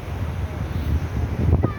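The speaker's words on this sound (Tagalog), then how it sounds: "Lakas ng hangin." Strong wind at a beach in Aringay, La Union buffets the microphone with a steady low rumble and gusty roar, with a faint hint of surf in the background.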